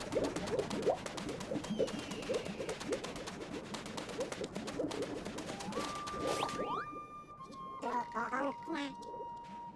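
Cooing bird from the Super Mario Odyssey game's Sand Kingdom, a soft repeated coo set against busy game music and effects, with someone talking over it throughout.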